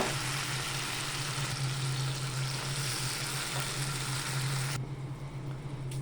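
Grated tomato paste sizzles in a hot pan with a continuous close frying hiss over a low steady hum, the hiss dropping away near the end.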